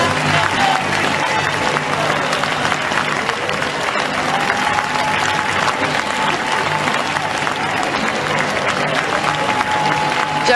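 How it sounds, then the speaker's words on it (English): A large conference crowd gives a standing ovation to Jeremy Corbyn after his Labour leadership win, steady dense clapping sustained throughout with faint cheering mixed in. "He's getting a standing ovation."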